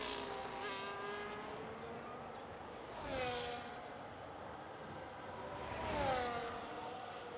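A McLaren race car in a racing video game at Australia drives past repeatedly, its engine note rising and falling in pitch with each pass, with several whooshing sweeps at moderate distance and no talk over it.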